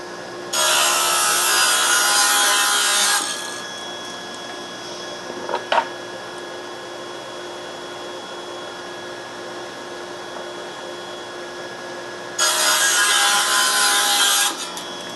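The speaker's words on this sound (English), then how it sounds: "turn on the dust collector" A table saw rips thin wood strips using a thin-strip jig while a dust collector runs steadily underneath, two loud, sustained cutting passes separated by a long stretch of the collector's hum alone.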